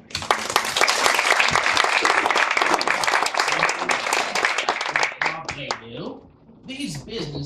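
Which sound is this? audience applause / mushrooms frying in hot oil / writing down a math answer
audience applause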